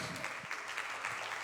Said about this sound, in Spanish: ¿Cuántos pueden dar un aplauso fuerte al Señor?